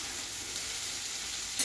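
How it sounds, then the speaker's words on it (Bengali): Potatoes and poppy seeds fry in a pan with a steady, even sizzle of oil and a faint clink of a utensil right at the end. "পোস্তটা ভাজা একটু আলুটা।"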